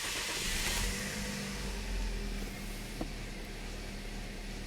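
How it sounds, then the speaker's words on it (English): A 2009 Toyota Corolla engine starts and runs with a misfiring ignition coil on cylinder 3, giving a rough mid-pitched idle with a steady hum and uneven pulses, close and moderately loud with no talking. "So now I'm gonna start the engine."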